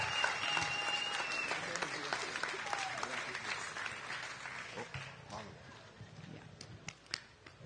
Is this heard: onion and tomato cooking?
no